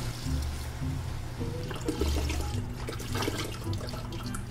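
Vegetable broth is poured into a stew pot of sweated vegetables, a close, continuous splashing and gurgling of liquid with a low sloshing rumble underneath.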